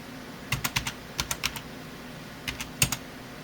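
Quick bursts of keystrokes clatter on a computer keyboard, in short irregular clusters with pauses between them. The taps are close and crisp and play alone without any talk, as a user enters text while setting up a Windows 10 account.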